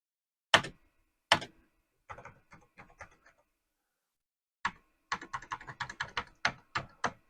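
Keys pressed on an Amiga 2000 keyboard: two sharp isolated clacks, a short run of lighter taps, a pause, then a quick rhythmic burst of keystrokes, close and fairly quiet with no talking.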